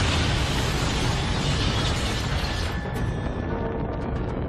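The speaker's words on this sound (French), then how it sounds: "Car ce serait une explosion d'une force incroyable." A massive meteor explosion roars in a dense, sustained blast of noise, then tails off into crackling debris.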